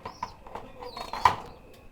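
Pigeons at a pigeon farm give soft, low coos in short repeated bursts, fairly close, with faint rustling and other bird sounds in the background.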